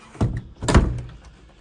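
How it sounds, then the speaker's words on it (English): A door swings shut over a Frost King twin draft guard fitted at the bottom of the doorway, giving two close dull thumps in quick succession with no voices. "Now whenever you go to close your door, it will track along your door"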